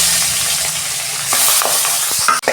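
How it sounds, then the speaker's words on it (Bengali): Fish frying in hot oil, a loud, continuous close sizzle with a few stirring clicks and scrapes near the end. "তেল গরম হয়ে গেছে, আমি দুটো করে মাছ ভেজে নেব।"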